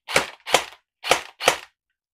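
Airsoft gun with blowback firing four sharp, close shots in a quick uneven pair-and-pair rhythm, each a crisp snap with a short mechanical tail.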